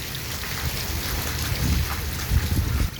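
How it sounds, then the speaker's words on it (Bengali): Heavy rain pours nonstop during Cyclone Remal in Dhaka, with strong wind gusting and rumbling beneath it, a loud, continuous roar that swells in low gusts toward the end, with no talking. "অবিরাম বৃষ্টি পড়তেছে সাথে প্রচণ্ড বাতাসের গতিবেগ"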